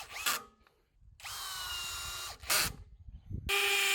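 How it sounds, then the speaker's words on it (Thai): Emtop ECIDL20968 brushless cordless drill driving screws into a workpiece, with several loud bursts of motor whine, steady runs separated by short pauses, close and alone. "สามารถปรับแรงบิดในการขัดสกูให้จมพอดีพอดีกับชิ้นงานได้นะครับ"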